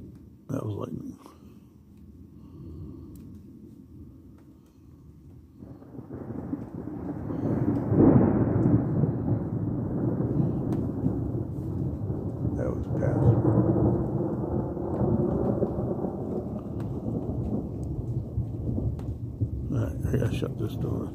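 Steady rain builds into a loud, rumbling downpour, with a deep roll of thunder swelling in the middle and a voice speaking briefly near the start.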